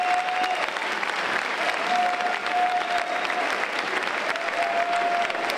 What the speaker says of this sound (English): I think that deserves an extra round of applause.